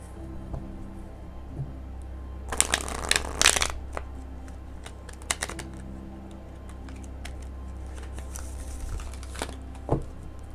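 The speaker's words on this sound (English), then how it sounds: "I just really like to shuffle them really good" Tarot cards being shuffled by hand, with a burst of quick papery riffling and fluttering near the middle, then a few softer shuffles and taps later, close and fairly quiet over a faint steady hum.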